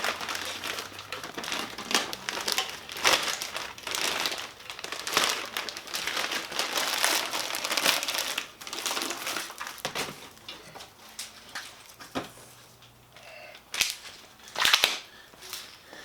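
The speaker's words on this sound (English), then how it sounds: "Let's unwrap it, man." Plastic and paper wrapping around car parts, ceramic-coated headers for a Z28, crinkles and tears in dense, crackling bursts, close up, easing off near the end.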